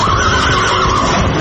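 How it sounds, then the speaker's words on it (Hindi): In a horror story, a horse gives a loud, close whinny, a long shrill neigh that quivers throughout, with faint rumbling underneath. "वो पागलों की तरह घोड़ा दौड़ाता रहा।"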